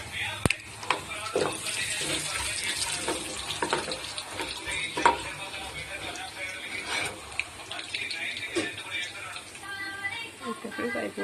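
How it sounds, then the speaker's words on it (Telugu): Chana dal, cumin, mustard seeds and urad dal frying in hot oil, giving a bright crackling sizzle with scattered pops and clatter, nearby, while someone talks over it. "చేసిన తర్వాత శనగపప్పు, జీలకర్ర, ఆవాలు, మినపప్పు వేద్దాం."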